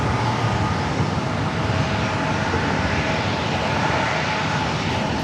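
An Alaska SkyWest Embraer E175 regional jet arriving from Las Vegas at San Diego airport gives a steady, broadband engine roar that holds at an even, moderate level throughout, with no voices.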